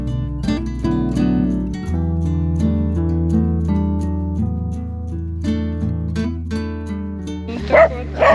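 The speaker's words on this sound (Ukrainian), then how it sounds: "Цуценяточки." Puppies in the Carpathian mountains bark and yip in repeated bursts, close and loud, with whimpering mixed in, over a steady low drone.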